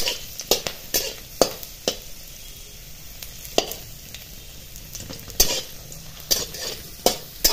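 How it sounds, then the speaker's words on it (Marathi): Ginger pieces and garlic cloves stirred into hot oil for masala, with a soft steady sizzle under repeated sharp scrapes and clinks of a spoon against the pan, close up. "याच्यामध्ये 2 आल्याचे तुकडे आहेत ते आणि 4-5 लसणाचे ज्या पाकळ्या आहेत ते टाकून घ्यायचे"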